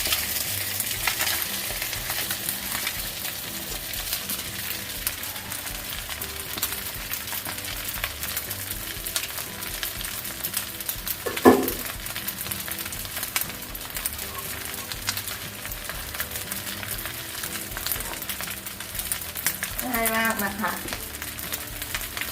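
Rice is stir-fried in a pan for Thai-style fried rice, giving a quiet, continuous sizzle with scraping stirs and one sharper clack midway.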